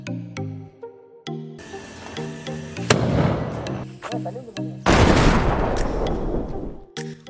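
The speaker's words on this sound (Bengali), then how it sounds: "এই বাজিগুলো ফাটানোর মজাই আলাদা" Sutli bomb firecrackers burst in a series of loud, sharp cracks, with a couple of heavy, roaring blasts that ring on and decay. Music plays in the background and no one speaks.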